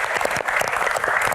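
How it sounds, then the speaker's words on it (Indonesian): A studio audience at an Indonesian televised Q&A show bursts into brief, lively clapping, a close, dense patter lasting just over a second. "Tepuk tangan dong, teman-teman."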